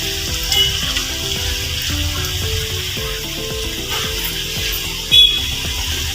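Vegetable momos fry in hot oil with a steady bubbling sizzle, close and loud, broken by occasional clinks of a utensil and a sharp splash near the end, with no voices.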